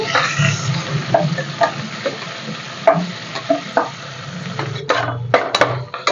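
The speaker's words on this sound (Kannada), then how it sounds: "ಈರುಳ್ಳಿ ಚೆನ್ನಾಗಿ ಫ್ರೈ ಆಗಲಿ" Thick-sliced onions fry in a pan for rice bath, with a steady sizzle under repeated scraping and stirring clatter that picks up near the end; no one speaks.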